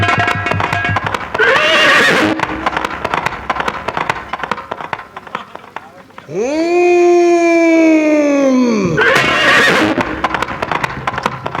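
A horse in a nautanki folk theatre play: rapid galloping hoofbeats, then a loud, drawn-out neigh rising and falling, then galloping again, close and prominent with no talk.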